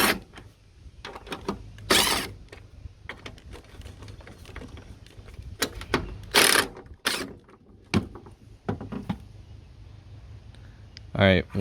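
Wrench work removing 14 mm bolts from a strut on a 3rd gen Mazda: scattered short metallic clicks and ratcheting bursts, some louder clanks, close by, with intermittent talk between them.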